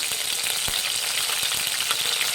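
Cinnamon, cloves, cardamom, cashews and peppercorns fry in hot oil for a coriander chicken masala, giving a loud, dense, continuous sizzle with a few faint crackles.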